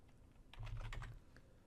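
A short, faint burst of keystrokes on a computer keyboard, a quick run of clicks typed alone in a quiet room.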